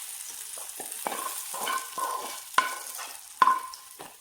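Pieces of fried brinjal (eggplant) are stirred in a pan, with a soft oil sizzle underneath and a string of irregular scrapes and clinks, two of them sharper and louder. The pan is close and no one speaks.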